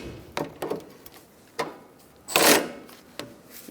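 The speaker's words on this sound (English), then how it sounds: "We're going to snug up our sway bar link nuts by prying down on the bar and using my battery ratchet." A cordless battery ratchet snugs the sway bar link nuts on a 2002-2006 Honda CR-V during a lower control arm job: a few short clicks and bursts, then one louder sustained whir near the middle, close and with no talk.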